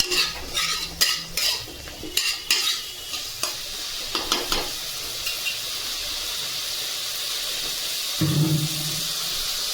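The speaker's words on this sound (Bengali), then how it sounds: "ঢাকাটা এবার খুলে দেখবো তো একটু নেড়ে চেড়ে নেবো" A spoon stirs pabda fish curry with eggplant in a pan, giving a run of rhythmic scraping knocks for several seconds before settling into a steady sizzling hiss, with one brief rumble near the end.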